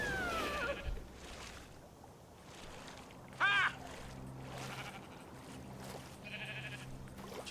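A sheep in the video game Minecraft Story Mode bleats once in a short wavering call partway through, set against game background noise and faint murmuring.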